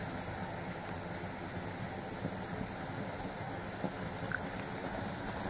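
A running water fountain gives a continuous, even rushing hiss that fills the whole stretch, with no voices over it.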